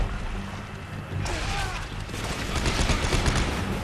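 Bombs explode in the Dead Space 3 video game, with a dense rumble of blasts and crashes that grows louder after the first second, and a voice may be faintly present beneath.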